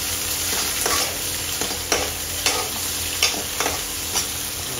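Potatoes sizzle in hot oil with red chili, a constant, close frying hiss broken by periodic scraping stirs.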